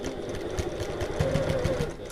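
Sewing machine stitching a bag seam to the end, a steady close mechanical whir with rapid regular needle thumps throughout the short stretch.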